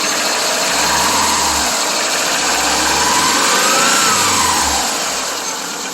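A 2001 Subaru Legacy engine that is running rough and overheating after an upper hose replacement, revving up and falling back in steady, near swells over a continuous idle, with no voices.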